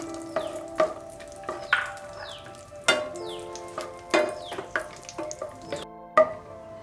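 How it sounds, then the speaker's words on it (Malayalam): Raisins and cashews sizzle steadily in hot ghee in a pan, with repeated clinks and scrapes of a spoon stirring them, close and moderately loud. "കിസ്മിസും കശുവണ്ടിയൊക്കെ നെയ്യ് വറുത്തെടുത്തു."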